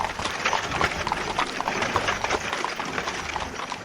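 Hooves of a horse pulling a carriage clip-clop in a steady, brisk rhythm, close and continuous, with rumbling wheels underneath.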